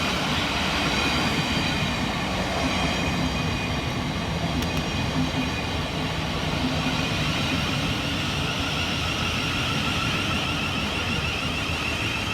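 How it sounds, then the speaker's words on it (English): A Southeastern class 707 electric train, units 707023 and 707017, pulls into a station on the Hayes line with a steady, moderately distant rumble and wheel hiss, and a brief faint squeal partway through. "Arriving next into the station is 707023 and 707017"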